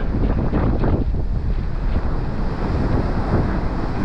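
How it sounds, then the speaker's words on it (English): Loud, rough wind buffets the microphone over the steady roar of surf during a gale on the Paphos seafront, Cyprus. The churning waves go on without a break. "See what they're like with all the waves."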